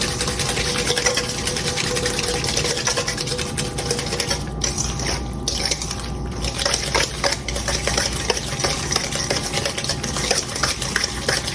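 Butter and sugar being stirred together by hand in a bowl for banana walnut muffins, a steady back-and-forth scraping and clinking of utensil against bowl that continues close and busy throughout.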